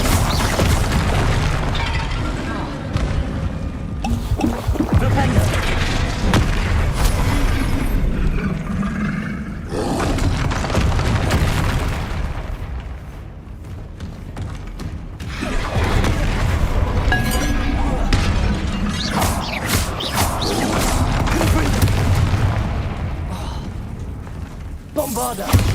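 Spell explosions from the Bombarda spell in the video game Hogwarts Legacy produce loud booming blasts and roaring rumbles that repeat over a dense mix of game sound effects and a voice.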